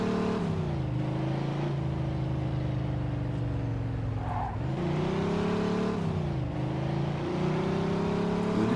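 Car engine in Mafia 2 pulling hard through the gears, a loud steady drone that rises in pitch, drops briefly at each shift around the midpoint, then climbs again, with no talk over it.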